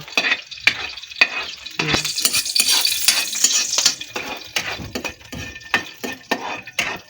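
Adobo is stirred in a hot frying pan with garlic. A utensil scrapes and clinks repeatedly against the pan over a steady sizzle, close up, with no voices.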